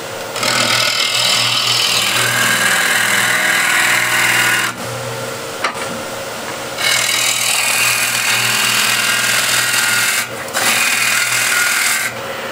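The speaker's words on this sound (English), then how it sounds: "now we'll start off with hollowing and coring out" A wood lathe hollows and cores out a rough-turned bowl, loud continuous tearing and rasping of the tool biting into spinning wood, broken by two brief pauses.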